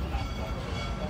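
The Busch Gardens Serengeti Express train rumbles and rattles as it pulls into a station, a low continuous rolling noise under a narrator's voice.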